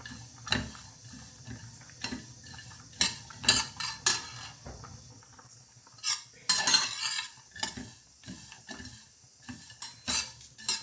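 Seeds and peanuts roasting together in a pan for a Gujarati stuffed brinjal masala, with a spoon scraping and clinking against the metal in irregular close strokes over a faint sizzle.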